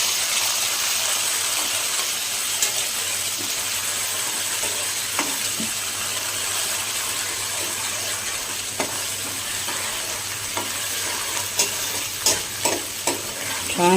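Ginger, garlic and green chili paste sizzles steadily in hot oil as a tempering for kadhi, with scattered scraping clicks from a spoon stirring the pan throughout, no voices.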